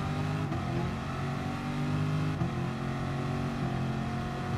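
Racing car engine in the video game GT Sport, a steady sustained drone held at constant loud level throughout, droning in a slipstream down a straight with no talk over it.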